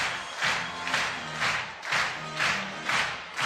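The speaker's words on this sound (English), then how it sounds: "Audience are clapping along with the tune here." Audience at a lead climbing semi-final competition in Prague claps in a steady rhythm along with music, the bursts of clapping rising and falling about every half second and filling the arena with a broad, continuous wash.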